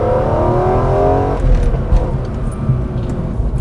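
A BMW E46 M3 engine pulls hard under acceleration, its rising harmonic whine climbing steadily before a shift, then settling into a rougher, lower drone with intermittent road and wind noise, close and loud.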